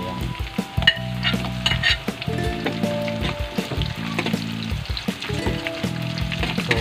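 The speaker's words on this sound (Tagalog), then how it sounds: "Pwede na po natin ihulog yung ating sibuyas" Sliced onions sizzling and frying in hot oil while being stirred for adobong isaw, a steady loud crackle broken by scraping and stirring knocks throughout.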